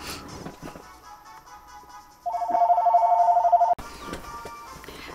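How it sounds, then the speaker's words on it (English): A real telephone rings during Pokemon Omega Ruby gameplay, a steady electronic two-tone trill lasting about a second and a half that stands out loudly over quiet game sounds, then cuts off abruptly. "ring ring ring phone call just in the middle"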